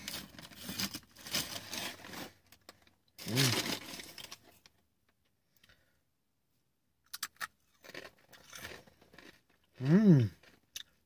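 Honey mustard Wheat Thins crackers are crunched close to the mouth in a few separate bursts of crisp chewing, with quiet gaps between them.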